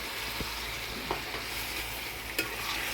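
Chicken fries in a pan with garlic paste and turmeric, a dense continuous sizzle with a few brief scrapes as it is stirred.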